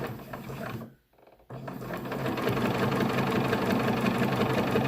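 A sewing machine stitches a down throw underquilt in a steady, close mechanical whir, pausing briefly for a moment of near silence before running on continuously and evenly to the end.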